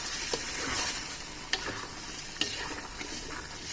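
Spiced potatoes for alur dom being stirred in a hot pan with garam masala and cumin powder, a steady sizzle broken by three or four sharp spatula scrapes and knocks against the metal, close up with no talking.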